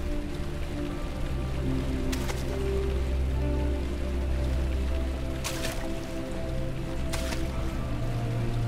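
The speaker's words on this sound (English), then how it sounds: "What a beautiful fountain." Fountain water in the video game Amnesia: The Dark Descent splashes in a steady, close wash. A few brief, brighter splashy bursts break through, and no one speaks.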